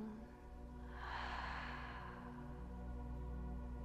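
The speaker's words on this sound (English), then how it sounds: "Inhale through your nose, exhale through your mouth" A slow, deep breath let out through the mouth during a guided mindfulness meditation, a soft airy exhale rising after a quiet pause and trailing off steadily over a low constant background hum.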